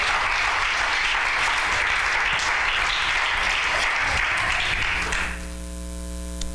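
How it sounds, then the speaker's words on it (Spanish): A church congregation gives sustained, loud applause as a dense wall of clapping, which cuts off abruptly near the end and leaves a steady electrical hum. "Yo lo aplauso fuerte al Señor"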